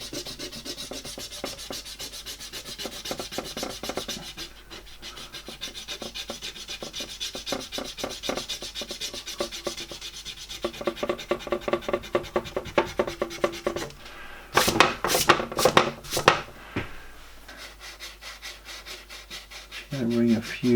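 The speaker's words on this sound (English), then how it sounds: "And we've got a big clump going on here. So we just have to keep rubbing." Rubbing out a paint clump on an airbrushed portrait, steady close scrubbing and rasping strokes in repeated bursts, a brief louder rattling scrape partway through, with no talk.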